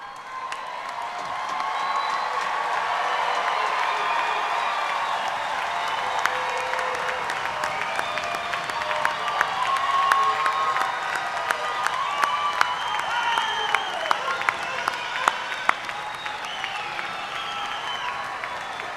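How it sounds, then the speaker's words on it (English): Commencement audience applauding spring graduates at a university graduate school ceremony: sustained, full applause from a large crowd in a hall, with scattered sharp individual claps and occasional cheers standing out over the dense wash. "I told you that we were going to applaud for you, didn't I?"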